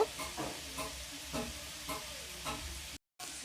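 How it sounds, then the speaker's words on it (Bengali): Chicken pakora batter of gram flour and cornflour being mixed by hand in a bowl, giving soft, repeated squelching strokes at a steady rhythm, close and moderately quiet, with a short silent gap near the end. "এবার আবারও একসাথে ভালো করে মাখিয়ে নেব"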